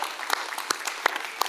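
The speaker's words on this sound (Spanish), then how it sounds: "aplauso a nuestro equipo de adoración" A church congregation applauds its worship team, a steady wash of clapping with several sharp, prominent claps from nearby hands punctuating it.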